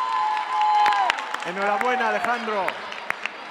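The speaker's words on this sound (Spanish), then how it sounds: "Alejandro, le damos un aplauso," Scattered audience clapping for a prize winner named Alejandro at a Robocampeones 2015 robotics event, a few sharp claps that grow sparser, mostly under someone speaking close to the microphone.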